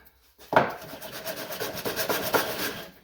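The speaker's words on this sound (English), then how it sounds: "Just sand those edges up." Sandpaper rubbing along the edges of a small wooden knife box, a close scratchy back-and-forth rasp that starts abruptly and continues in uneven strokes, with no talk.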